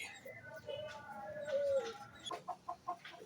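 Backyard chickens being fed kitchen scraps and leaves cluck softly close by, a few drawn-out calls followed by short rhythmic clucks near the end, faint and quiet overall.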